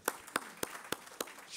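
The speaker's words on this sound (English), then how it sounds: "Yes, it's okay to applaud." Sparse, scattered hand claps from a small audience at a tribute service, five or six separate sharp claps spaced irregularly and fairly quiet, with no talking.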